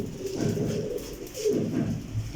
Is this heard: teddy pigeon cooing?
yes